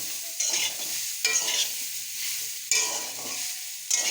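Mango pieces being stirred in a dry pan for pickle, a close scraping and rustling repeated in sweeping strokes every second or so over a faint sizzle.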